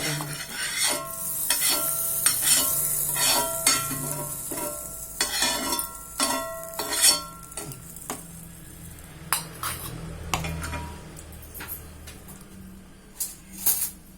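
Curry leaves and asafoetida tempered in a pan for a brinjal curd pachadi, a faint sizzle beneath repeated metallic spoon clinks and scraping stirs.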